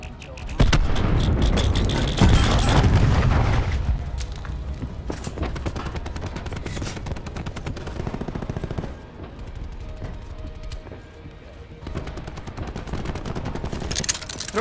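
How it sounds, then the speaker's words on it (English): Call of Duty: Black Ops 4 gameplay rumbles with a cluster grenade's explosions and steady gunfire, a dense, loud wash of blasts and rapid shots that continues throughout. "Throwing cluster grenade."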